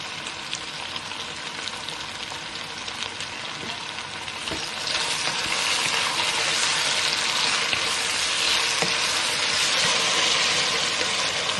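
Sweet peppers and tomatoes sizzle and fry in a pan, a steady hiss of hot oil that grows louder partway through, with occasional stirring scrapes and no talking.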